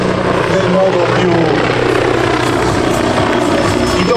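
An AH-129D Mangusta military helicopter of the Italian Army flies at a seaside air show, its loud, steady rotor and engine roar continuous and close throughout while a commentator talks over it.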